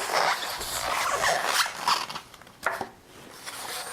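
Someone opens a snug styrofoam box that holds a mug, producing close, dry rubbing, squeaking and crunching of foam in quick bursts, with a short pause near the end.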